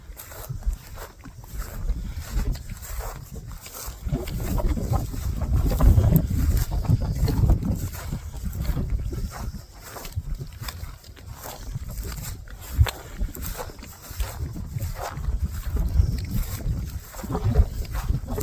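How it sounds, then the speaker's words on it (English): Strong gusting wind outdoors on open hunting land, a steady low roar buffeting the microphone throughout with surges and dips, and brief breathy sounds from a person nearby. "It's crazy windy out here right now."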